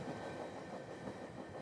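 The Rocky Mountaineer luxury train runs along the rails between Vancouver and Banff, a steady low rumble with faint rhythmic clatter heard from inside a carriage.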